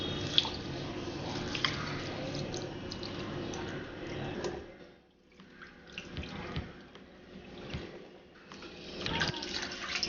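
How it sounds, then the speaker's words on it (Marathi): Rice grains washed by hand in water for home-cooked rice, with steady running tap and sloshing water sounds up close, a brief quieter pause midway, then more swishing and dripping. "सर्वात प्रथम आपण तांदूळ धुवून घेऊया।"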